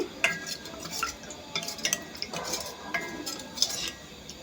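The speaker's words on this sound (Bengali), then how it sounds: "একটু নেড়ে নিচ্ছি" Cornflour, ground black pepper and salt are stirred together in a bowl for Thai chilli prawns, with irregular close spoon clinks and scrapes, some sharper taps standing out.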